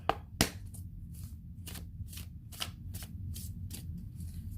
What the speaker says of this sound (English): Let's pull a card for Aquarius.